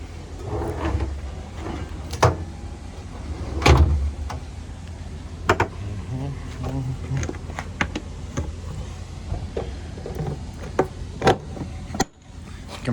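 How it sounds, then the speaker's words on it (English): Compression locks on the compartment doors of an Iveco Daily RV give a string of sharp metallic clicks and latch snaps, with a few heavier clunks, close by. "Compression locks are good."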